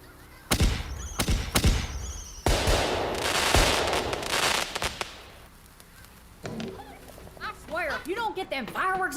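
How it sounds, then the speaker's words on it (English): Sharp bangs and crackling bursts of fireworks go off in a quick volley, followed by a dense crackle and then scattered high whistling sounds. "If you don't get them fireworks on my lawn"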